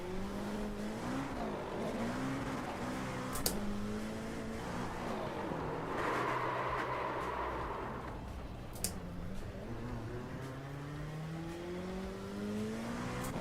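A race car in the iRacing video game driving on a wet track, steady engine drone rising and falling through gear changes, with brief sharp clicks and a patch of spray-like hiss midway, no voices.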